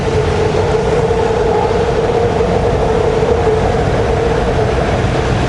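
Train in Kuala Lumpur moving through trees by the river, heard as a loud, steady rail rumble with a sustained mid-pitched tone running throughout, close and unbroken, with no voices.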